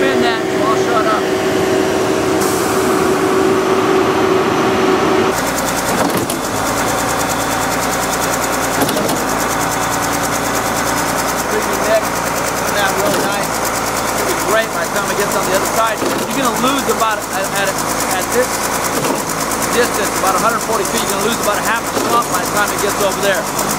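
A concrete mixer spins a dry, stiff concrete mix for panel work, its engine droning loud and steady with a continuous rumbling churn throughout, and voices speak over it.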